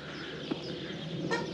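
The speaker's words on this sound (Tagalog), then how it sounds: "Ayun yung papaitlog naming manok." A laying hen on a rural provincial farm clucks in a brief burst over steady background noise, with a few soft fowl calls close by.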